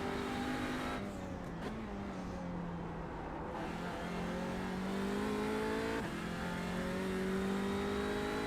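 Audi TCR touring race car in a racing video game at Road Atlanta, engine droning and revving steadily with a gear change and rising pitch, loud and continuous throughout.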